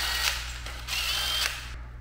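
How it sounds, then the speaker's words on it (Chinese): A power drill backs out a screw while a ceiling fan is being installed, giving two short whirring bursts with a ratcheting edge, close and fairly quiet, with no talking. "那我们先把这个螺丝卸下来"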